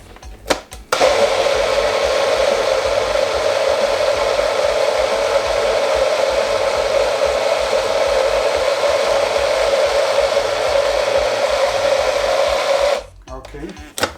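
A blender purees mango and pineapple, starting after a short pause and running as a loud, steady motor whine for about twelve seconds before cutting off, close by.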